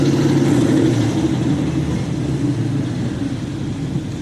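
A 2013 Mustang GT 5.0 with a twin disc clutch cruises along, its engine a steady, close low rumble with a faint easing in loudness, no voices over it.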